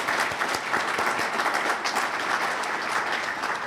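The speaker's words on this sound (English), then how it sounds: "we can do another round of applause for that" Breakfast guests at Elmhurst College give a round of applause for the student jazz combo, steady dense clapping with a few sharper nearby claps, lasting a few seconds.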